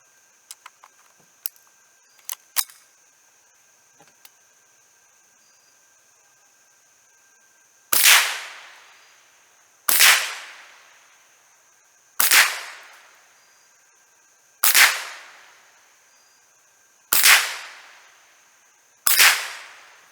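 Six sharp .22 rifle shots from a Savage B22 or Model 64 at an outdoor range aimed at cans, spaced about two seconds apart and loud and close, each ringing out with a decaying tail after a few faint clicks.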